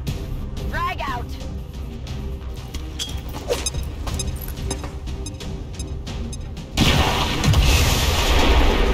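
A frag grenade detonates in XCOM 2 amid city combat: gunfire and rumbling booms continue for several seconds, then a loud broadband blast erupts near the end and sustains. Voices talk in the background throughout.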